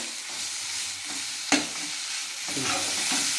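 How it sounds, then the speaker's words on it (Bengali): Squeezed soybean chunks stir-fry with spices in a pan, a steady hiss of sizzling broken by scraping stir strokes and a sharp knock midway, the frying swelling louder toward the end. "মশলা সোয়াবিন ভালো করে আরেকটু কষিয়ে নেবো।"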